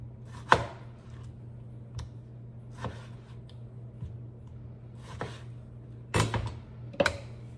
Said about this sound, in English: dice them a little bit so that they can fit in the blender cup.